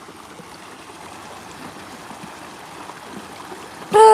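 Creek water runs and gurgles steadily on a hike in Middle Tennessee, a continuous close wash of flowing water, with a brief louder splash or knock right at the end.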